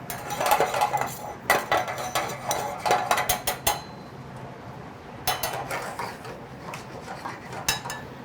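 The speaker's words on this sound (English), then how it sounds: "I'm just gonna give my mushrooms and my lentils a stir." Mushrooms and lentils stirred in a pan: bursts of clinking and scraping of a utensil against the metal pan, in clusters separated by quiet pauses, close by with no speech.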